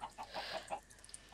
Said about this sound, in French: Prenez mes petits poulets.